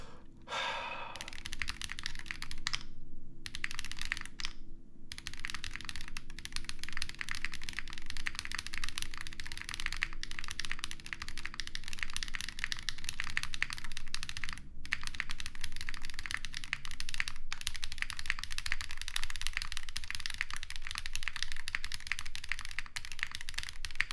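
Continuous typing on a custom mechanical keyboard with lubed switches and GMK Dolch R5 keycaps, a steady close rapid clatter of keystrokes running throughout with brief pauses, no talking.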